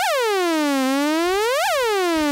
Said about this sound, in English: with curve and symmetry in the center, you're just going to get basically a sine wave